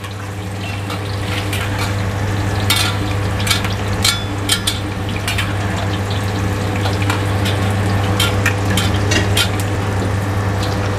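Chicken karaage frying in hot oil, a steady loud sizzle and crackle with sharp pops scattered throughout, continuous and close with no talk.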